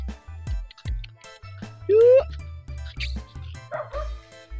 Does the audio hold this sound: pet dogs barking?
yes